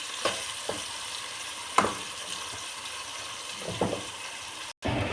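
Onion and turnip fry in a pan for a spicy mashed turnip dish, with a soft continuous sizzle under several sharp clicks and scrapes as the mixture is stirred.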